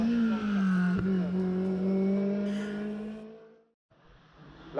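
Honda S2000 race car at a hill climb in Saône-et-Loire, its engine droning with a rising then falling pitch as it passes, fading into the distance before a brief new noise at the end.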